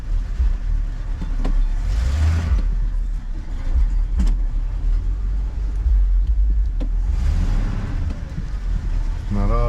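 A 1968 Ford LTD V8, now warmed up, idles steadily with a low continuous rumble and a few brief louder revs, heard close by with no talking.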